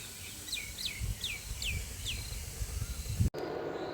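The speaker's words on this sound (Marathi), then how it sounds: "मस्त सकाळी सकाळी पक्ष्यांचा आवाज येतो आहे" Five or six bright, rising bird chirps repeat at a steady pace over a low background rumble, then a sharp click and a quieter hiss.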